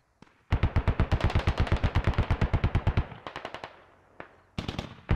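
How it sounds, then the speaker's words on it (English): Rapid bursts of weapon fire in the military shooter game Squad, a fast regular string of loud sharp reports followed by sparser shots and a short volley at the end, with no talk. "You hear Russian GLs go out, but I don't see an explosion."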